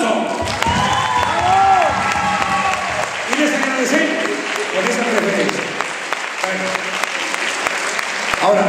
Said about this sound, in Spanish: nosotros a ustedes les damos un aplauso